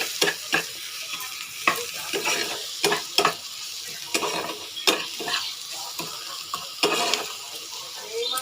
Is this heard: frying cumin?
yes